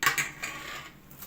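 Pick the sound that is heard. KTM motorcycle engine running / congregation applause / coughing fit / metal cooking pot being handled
metal cooking pot being handled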